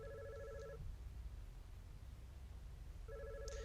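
Telephone ringing inside a video game puzzle: two electronic double-tone rings separated by a long pause, heard over a low humming background ambience, with nobody speaking.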